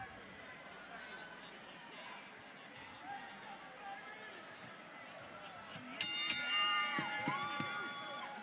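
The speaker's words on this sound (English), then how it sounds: "The crowd still in an absolute frenzy here" A boxing arena crowd in Fight Night Champion: steady, moderate chatter and murmuring from a large audience. Later a ring announcer's amplified voice booms over it while the crowd noise rises.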